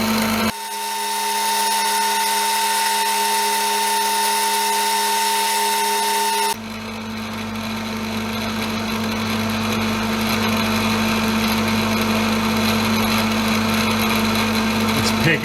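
A machine drills a hole with short pecking strokes, a continuous high-pitched whine with steady tonal harmonics that shifts character partway through as the drilling changes, running loud and unbroken throughout.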